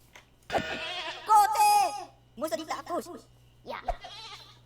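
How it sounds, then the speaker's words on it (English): A goat in the Minecraft video game bleats several times while being attacked, the wavering cries in short bursts mixed with a voice talking over them. "we'll attack this goat here"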